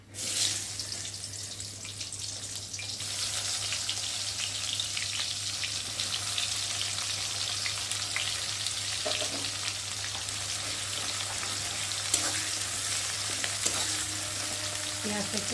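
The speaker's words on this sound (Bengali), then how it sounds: "এখন আমি পেঁয়াজগুলোকে দিয়ে ভালো করে ভেজে দেবো" Onions fry in hot oil in a heated pan (kadai), giving a steady, dense sizzle that runs unbroken from start to finish with a few faint stirring clicks and no voices.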